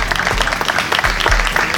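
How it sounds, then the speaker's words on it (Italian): An audience at a Miss Italia Veneto regional beauty pageant held poolside in a hotel garden in Jesolo applauds the contestants, giving a short, loud burst of dense clapping with little else heard. "Chiedo un bel applauso per tutte le nostre concorrenti"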